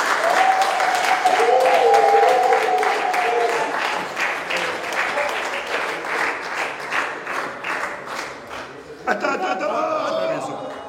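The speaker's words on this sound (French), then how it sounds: "Nous bénissons le Seigneur en acclamant très fort le Seigneur." At a Paris wedding, the congregation breaks into loud, sustained applause and cheering for the Lord, with voices calling out over it. The clapping thins briefly, then swells again near the end.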